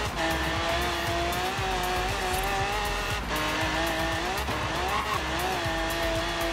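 An Impala SS lowrider in Forza Horizon 3 revs hard and climbs through the gears on a highway, engine note rising steadily with brief dips at shifts and loud, close, continuous tone.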